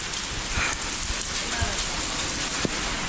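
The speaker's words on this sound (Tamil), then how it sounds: "நீங்கள் பார்த்தீங்கனாலே தெரியும் எவ்வளோ மழை பெய்யுதுன்ட்டு" Heavy rain pours onto the Tirumala walking path, a dense, continuous hiss with scattered louder drops and splashes nearby, and no talk over it.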